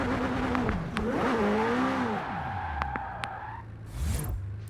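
A McLaren Senna supercar engine in the Forza Horizon 4 racing game, driven with a Logitech G29 wheel, revs and shifts up and down steadily, with tire squeal and a rising roar near the end.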